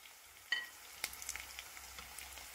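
Lightly browned onions frying in a pan as green chillies go in, a soft crackling sizzle with a sharp clatter at the drop and a few quiet stirs, fairly faint and without talk.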